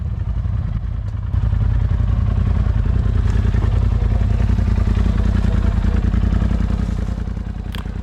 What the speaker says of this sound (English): Listen to this turbocharged 181 horsepower engine pound away at idle.